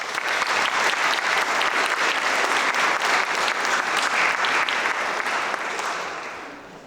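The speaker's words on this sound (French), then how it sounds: "Vous pouvez les applaudir." A dense, sustained round of applause for the contestants at the final of an eloquence contest, a full hall clapping evenly for about six seconds before fading away.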